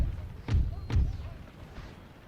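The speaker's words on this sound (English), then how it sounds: "So we're turning this line up to open fire upon them." Musket line opening fire in the Empire Total War video game, two heavy muffled volleys about half a second apart, then a fading rumble.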